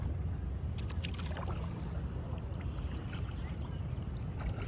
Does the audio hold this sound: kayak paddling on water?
yes